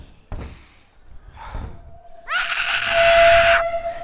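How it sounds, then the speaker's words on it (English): A loud, high-pitched scream from a character in the Hello Neighbor video game bursts out and is held for over a second, following two shorter breathy gasps. "Wow, that person screams loud."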